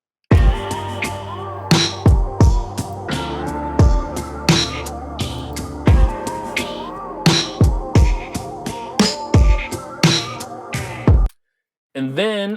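Hip-hop beat with slowed, heavy drums, a pitched vocal sample and sustained synth chords from a VST, with steady hits throughout before it cuts off and a voice briefly speaks at the end.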